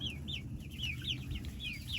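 A Maran rooster clucks and calls repeatedly in short rising notes over a steady low rumble of background noise in a barn.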